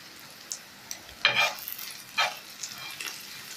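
Pieces of taro (colocasia) fry in hot oil with a soft continuous sizzle, broken by a few louder scraping stirs of the pan; the sound is close and fairly quiet, with no talk.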